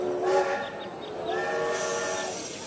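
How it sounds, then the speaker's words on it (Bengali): A train pulling out as an audio-drama effect: a long drawn horn or whistle over a steady rolling rumble, moderately loud, with no voices. "এদিকে ট্রেন ছেড়ে দেবে।"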